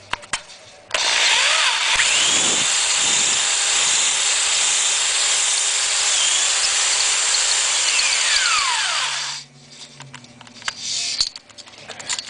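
A drill-driven cylinder hone spins in reverse inside an engine cylinder on a turbo four-cylinder build, a loud steady whine with a rising and falling pitch, starting abruptly and cutting off near the end, with a few clunks afterward.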